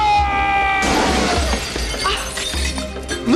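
Glass shattering and breaking in a household scene, a loud crash with scattered tinkling fragments over a dense background of music-like tones.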